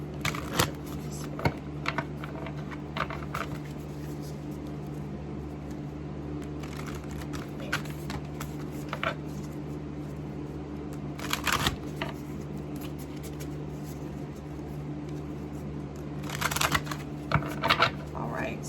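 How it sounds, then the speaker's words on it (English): Oracle cards being shuffled by hand in repeated crisp bursts of riffling and flicking, close and clear over a low steady hum, with a few louder flurries near the end. "I'm gonna pull you some oracle, one oracle card or two"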